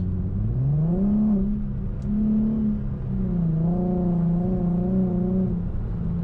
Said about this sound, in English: the car naturally had a growl to it that I just love